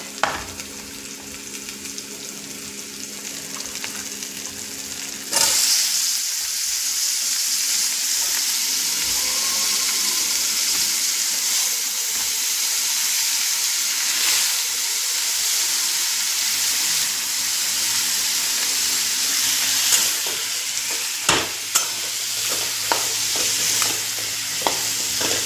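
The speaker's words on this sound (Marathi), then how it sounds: "मस्त अशी परतून घ्यायची भाजी." Chopped brinjal and potato are sautéed and stirred in a pan, giving a steady, loud sizzle and frying hiss with occasional spatula scrapes and clinks throughout, and no talking.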